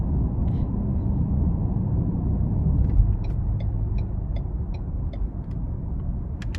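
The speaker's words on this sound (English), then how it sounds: "we're gonna try and give it a little throttle getting on the interstate here" A 2024 Ford Edge SE with a 2.0-litre turbo four, eight-speed automatic and all-wheel drive accelerates onto an interstate, giving a steady low engine and road rumble from inside the cabin, with faint ticking clicks partway through.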